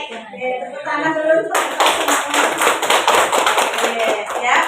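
Audience at a school positive-culture dissemination session clapping together on cue, a dense burst of many hands that starts suddenly after brief talk and keeps going steadily to the end.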